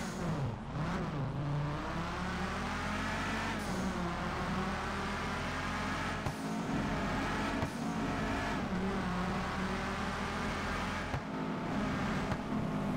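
Modified custom exhaust note of a tuned car in GTA 5, a loud continuous engine drone that rises and falls with revving and acceleration throughout, with no talking.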